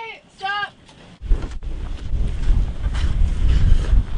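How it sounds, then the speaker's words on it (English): Gusty wind buffets the microphone at an ice base on a stormy day, a loud, rushing low roar that rises from about a second in and grows stronger, with a short voice at the start. "it's a bit of a blustery Sunday today"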